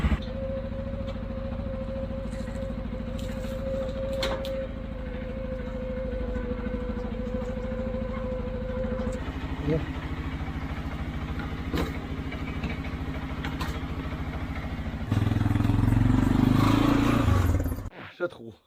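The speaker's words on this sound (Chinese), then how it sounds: "以前怠速带不住，换完电瓶怠速都带住了。" A small car idles steadily after its battery has been replaced, a low even engine hum that runs for most of the stretch, swells louder near the end and then cuts off; a voice is heard over it.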